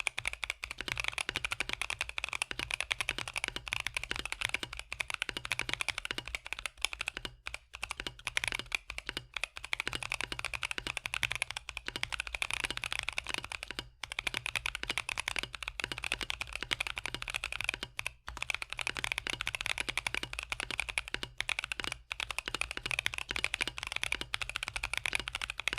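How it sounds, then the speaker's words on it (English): Fast, continuous typing on an Akko Mod 007 mechanical keyboard, with dense clacking keystrokes close up for the whole stretch and no voices. "I really like how this keyboard sounds"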